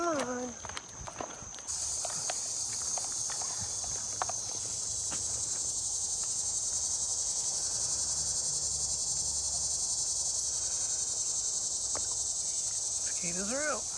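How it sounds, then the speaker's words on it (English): Loud, continuous insect buzzing of cicadas fills the air with a steady high-pitched drone, with occasional faint footsteps and brief sounds underneath. "Cicadas are out."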